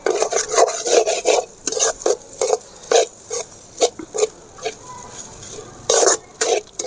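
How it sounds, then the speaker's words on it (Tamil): Fried rice with egg and drumstick leaves is stirred in a pan, a spatula scraping and rasping against the metal in uneven close strokes over a faint sizzle, with no one talking. "சோத்தை இறக்கி விட்டு நல்லா கிண்டுங்க."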